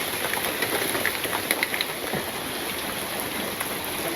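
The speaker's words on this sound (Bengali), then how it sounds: "তো বন্ধুরা বৃষ্টি একটু থামছে" Rain falls steadily in a village during the monsoon, a soft even patter with a few scattered drops, heard from a short distance and with no one speaking.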